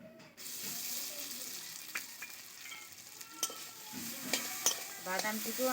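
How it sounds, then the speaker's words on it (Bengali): Ground almond paste frying in ghee, a steady close sizzle with repeated scraping stirs of a spatula against the pan, growing a bit busier toward the end, with no talking. "বাদাম বাটিয়াটিকেও আমি খুব ভালো করে ভেজে নেব"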